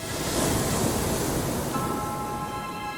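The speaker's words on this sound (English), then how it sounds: "As the water crashed against the steep cliffs" Seawater crashes against steep cliffs in a broad, fairly soft rumbling surge that swells and then eases, heard at a distance with no voices.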